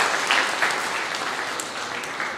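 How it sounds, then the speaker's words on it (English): Applause from an audience at an academic lecture on nanodimensional smart materials, a dense steady wash of many hands clapping at once, sustained and fairly loud throughout. "They deserve a big round of applause"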